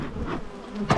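Bees swarm close around a beekeeper opening hives, a dense, near buzzing that swells briefly at the end.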